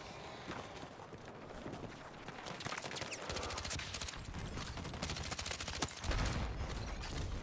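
Dense, loud Battlefield 6 combat: rapid bursts of automatic gunfire crackle almost continuously, with heavier thumps from grenade blasts near the end, no voices over the din.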